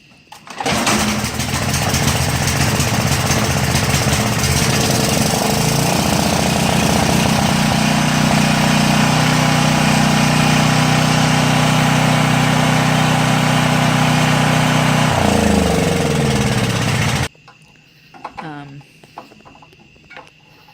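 A Briggs & Stratton generator engine, just after a carburetor rebuild, starts and runs with a loud steady drone that stays close and even for most of the clip, then cuts off abruptly, leaving quiet room noise.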